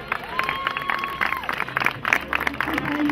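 A crowd applauds and cheers at an awards ceremony for an Extreme Filabres race podium in Serón. The clapping and voices form a steady, dense mass throughout, and a faint tone runs briefly under it.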